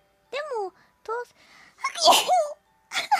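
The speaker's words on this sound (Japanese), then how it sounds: "くしゃみしちゃった。" A young woman gives a sharp sneeze after short speech-like vocal sounds, close and loud, followed by a few more spoken syllables.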